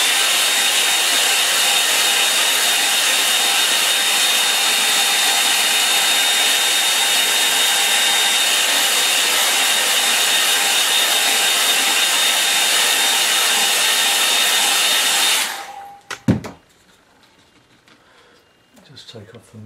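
A hair dryer blows steadily and loudly for about fifteen seconds to dry watercolour paint, then switches off with a clunk, leaving a quiet room.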